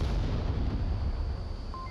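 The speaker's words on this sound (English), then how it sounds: "The James nades start rolling in right onto the center of the map" Grenades exploding in the VR shooter Onward during a competitive match: heavy booming rumble with thumping blasts, loud and sustained, ending with a faint electronic beep.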